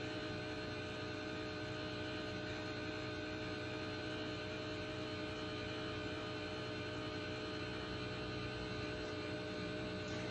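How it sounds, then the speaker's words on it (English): A Let's Resin electric resin mixer runs continuously, a steady droning motor hum with a thin whine that holds unchanged for about ten seconds, with no talking. "If you haven't used this Let's Resin mixer, it does do that, so I'm just going to let it go ahead and do its thing."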